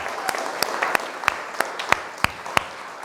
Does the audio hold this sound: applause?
yes